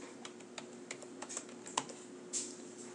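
Keys on a computer keyboard tapped at an irregular pace while a password is entered, quiet close-up clicks over a steady background hum.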